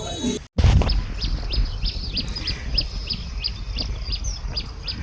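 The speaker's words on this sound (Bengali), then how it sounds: "পাখির ডাকের সাথে সুন্দর বিকেল আপনারাও উপভোগ করুন আমার সাথে।" A small bird repeats a high, thin chirp in a steady rhythm, fairly close, over a low background rumble after a brief sharp knock.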